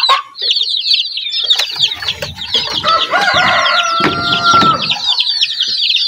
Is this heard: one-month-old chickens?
yes